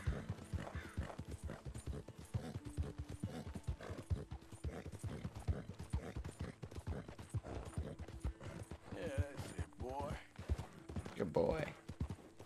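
Horse hooves clip-clop at a quick, steady gait in Red Dead Redemption 2, a continuous rhythmic patter with occasional snorts and whinnies, mixed with game music and a person talking over it.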